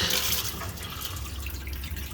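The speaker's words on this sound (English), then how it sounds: "You can drain the tap" A tap drains an RV water system while the pump is off, pouring water in a steady splashing stream that surges briefly at first, then settles into a constant run.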